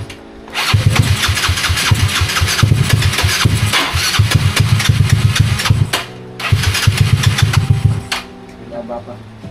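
Yamaha Mio Sporty motorcycle engine cranked and started, loud nearby bursts of rapid revving with a short pause before a second run, then settling.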